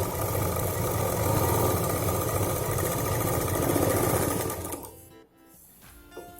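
A sewing machine stitches cloth laid over a sponge, running as a fast, steady mechanical whir of rapid needle strokes close by for several seconds before stopping abruptly, leaving a few faint clicks.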